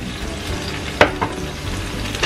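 A spicy eggplant and tofu stir-fry, seasoned with soy sauce and rice vinegar, sizzles in a pan while being stirred. Two sharp spatula scrapes and clanks stand out above the steady close frying hiss.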